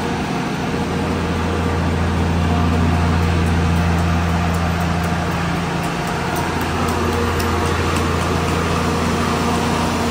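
A generator runs during a power outage in Vigan City, giving a loud, steady low engine drone with a constant hum that does not let up.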